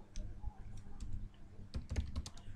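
Close computer keyboard typing while writing code, scattered keystrokes that end in a quick burst of sharper clicks, with no talk.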